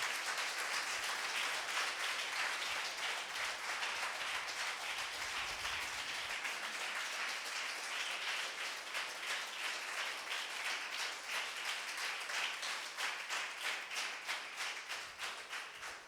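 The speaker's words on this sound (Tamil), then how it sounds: "நல்லா கைத்தட்டலாம், நல்லா கரங்களை தட்டு" A church congregation claps hands steadily for a sustained stretch, the quiet, somewhat distant clapping falling into a more rhythmic unison beat toward the end.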